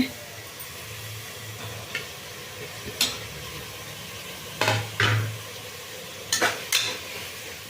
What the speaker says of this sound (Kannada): ಇದಕ್ಕೆ ನಾನೀಗ ಟೊಮೆಟೊ ಹಾಕ್ಕೊಳ್ತೀನಿ